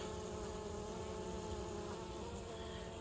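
Honey bees buzzing steadily around a busy hive with a brood chamber and honey supers, a dense, continuous hum of many insects close by with no voices.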